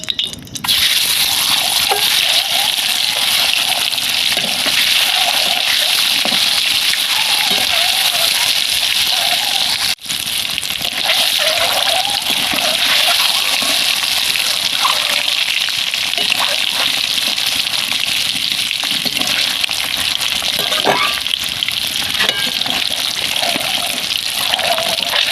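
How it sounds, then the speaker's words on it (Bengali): An egg coated in salt and turmeric fries in hot oil with a loud, steady sizzle and hiss that runs unbroken for the whole stretch. "তো ডিমটা ভাজা হয়ে গেছে, তুলে নেব।"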